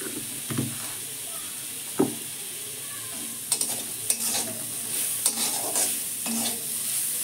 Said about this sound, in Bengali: দেখলেন তো কত সহজে কড়াই শাক ভাজা হয়ে গেল